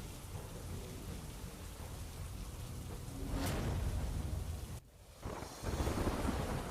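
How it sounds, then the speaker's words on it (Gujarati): Heavy monsoon rain falls at night in Modasa, Gujarat, as a dense, steady roar, while rolling thunder swells partway through and the downpour grows louder toward the end. "ગાજવીજ સાથે મોડાસામાં વરસાદ વરસ્યો"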